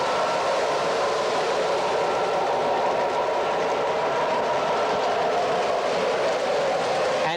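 The 49er passenger train rolls steadily past on the rails, a loud, continuous rushing roar with a faint rhythmic clatter of wheels throughout, and no voices.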